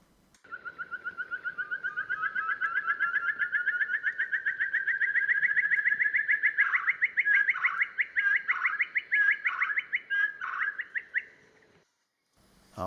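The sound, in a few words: ferruginous partridge call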